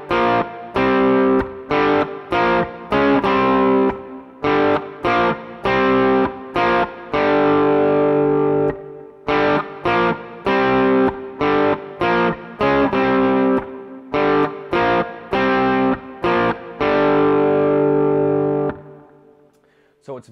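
Distorted electric guitar plays a riff as clean double stops, loud and up close: choppy bursts of chords in the familiar rhythmic pattern, repeated across the clip and ending on a fading held note.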